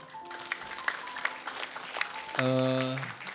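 Studio audience applause for the Jamiatul Qura Semarang group at a Quran recitation competition, scattered clapping under a host's voice, then a brief swell of music and louder cheering near the end.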